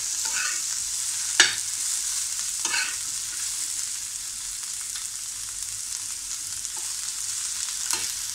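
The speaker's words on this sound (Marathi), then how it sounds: "लसणाच्या पाकळ्या, 7-8 लसणाच्या पाकळ्या आहेत, त्या थोड्या आपल्याला परतून घ्यायच्या आहेत" Ginger and garlic cloves sauté in hot oil in a pan, giving a soft continuous sizzle with a few louder scraping stirs and spatula knocks spread across it.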